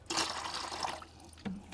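Muriatic acid is poured into a container already holding a little water, a brief liquid gush and splashing trickle, close and fairly faint, ending with a small drip.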